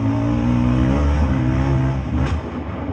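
A Yamaha 700 Raptor engine screams at high revs in fourth gear, a loud, steady close drone, then a sharp clack as the engine fails and the roar dips near the end.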